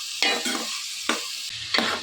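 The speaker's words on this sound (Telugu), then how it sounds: "వేసుకుని ఇదంతా కూడా బాగా మిక్స్ అయ్యేలా కలుపుకొని గోల్డెన్ కలర్లోకి వచ్చేంత వరకు ఫ్రై చేసుకోవాలి" Rock salt mixture frying in hot oil in a pan, a continuous sizzle broken by three sharp scraping stirs of a spatula, close and fairly loud, with no voices.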